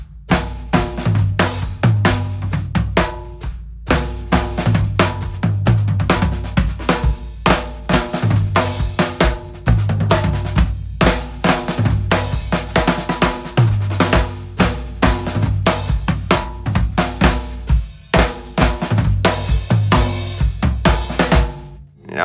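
A steady drum kit groove with the snare on beats two and four, driving and loud, over a repeating bass line and accompaniment that keep a consistent rock pulse throughout.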